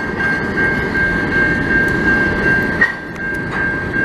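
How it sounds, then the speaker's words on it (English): A CN potash freight train rolls by on an evening in Montreal's St-Henri borough, a steady, loud rumble of rail cars with a sustained high squeal and occasional clanks, continuing throughout. "this looks like it's actually a potash train"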